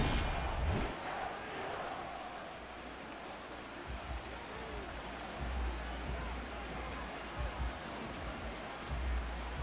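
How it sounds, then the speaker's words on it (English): Steady rain falls across the football stadium at Lincoln Financial Field, a constant wide hiss with faint patter that continues evenly throughout, with a low distant rumble underneath. "A steady rain falling at Lincoln Financial Field."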